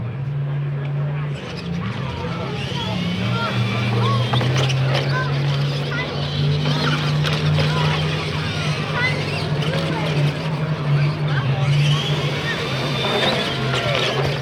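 R/C monster trucks race at a Bigfoot 50th anniversary open house, with continuous buzzing electric motors and whining drivetrains close by, under a loud crowd hubbub and voices talking throughout.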